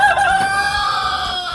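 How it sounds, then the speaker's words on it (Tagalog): Free-range backyard chickens cluck steadily while a rooster crows loud and close, the call stretching across the whole short moment with no talk over it. "Dito yung mga alaga ko mga chicken."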